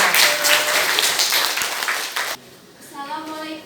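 Students clapping at a school student-council election event, a burst of applause for about two seconds that fades out, followed by a voice speaking.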